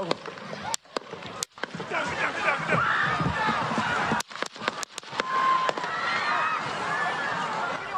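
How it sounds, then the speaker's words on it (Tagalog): A rapid series of sharp gunshot cracks rings out over a noisy, shouting crowd, then more shots follow a few seconds later. "Sunod-sunod na putok ng baril ang umalingaw-ngaw"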